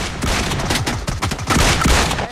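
DBS shotgun fire in the mobile battle royale PUBG Mobile during a competitive esports match: a loud, dense barrage of overlapping blasts and booms, with no pauses across the short stretch.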